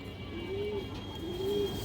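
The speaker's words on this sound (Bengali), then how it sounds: "এই দেখেন কবুতরটা দেখেন দর্শক, এই কবুতরটা পাল্লা করা দর্শক" A pigeon coos nearby, two soft drawn-out low calls close together over a quiet background.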